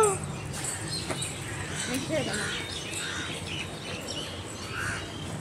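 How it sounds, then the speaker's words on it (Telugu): Birds call with scattered chirps near a canal by the Godavari river close to a temple. The calls are faint and intermittent over steady outdoor background noise, with people talking nearby. "అసలు ఆ పక్షులు ఎలా అరుస్తున్నాయో"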